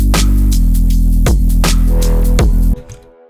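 A Reese-like background bass synth, a sine wave carrying odd harmonics, plays loud and alone in a dense droning line with rhythmic pulses before cutting off abruptly near the end.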